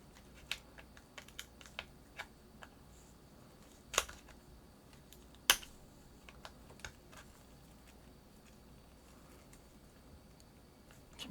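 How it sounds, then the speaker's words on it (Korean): A Google Pixel 1's clips snap loose one by one as a spudger pries the back open, sharp faint clicks scattered irregularly across a quiet room, two of them louder than the rest. "이렇게 들어 올리면은 딱딱 소리 나면서 이렇게 빠질 거예요."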